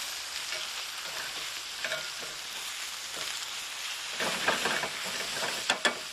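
Steak frying in a hot pan gives a steady, close crackling sizzle throughout, with a few sharper pops and spits toward the end and no talking.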